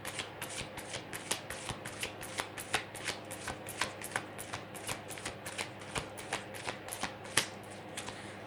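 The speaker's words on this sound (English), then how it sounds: "I'm going to shuffle one more time and see if any other cards come out." Rapid riffle of a deck of cards being shuffled, a steady string of crisp snapping bursts, close and clear, with no talking.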